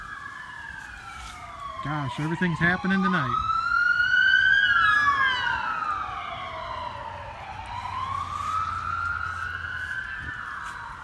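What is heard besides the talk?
emergency vehicle sirens at night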